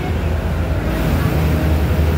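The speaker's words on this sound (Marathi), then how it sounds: "हे इथलं इंजिन." The engine of a jetty ferry boat crossing from Virar to Safale gives a loud, steady, close-up low rumble with broad mechanical noise that holds unbroken throughout.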